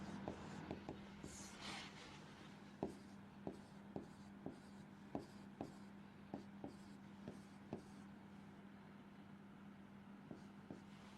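A pen writes machine code by hand, giving a series of faint, regular taps and strokes over a steady background hum, with occasional quiet voice in the background.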